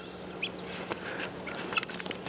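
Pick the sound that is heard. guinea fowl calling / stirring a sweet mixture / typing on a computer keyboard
guinea fowl calling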